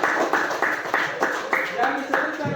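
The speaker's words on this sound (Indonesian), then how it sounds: "Kasih tepuk tangan dulu untuk Adam" A classroom of students claps together for a classmate, about eight evenly spaced unison claps in a steady rhythm, close and clear, ending with a brief final clap.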